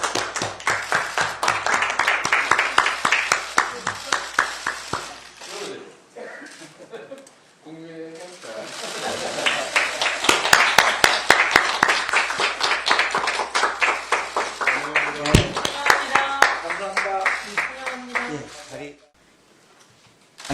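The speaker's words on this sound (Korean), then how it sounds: "박수로 환영해 주시면 감사하겠습니다." A press event audience applauds to welcome a speaker: dense, loud clapping runs for several seconds, eases, then builds again before fading, with a voice speaking over parts of it.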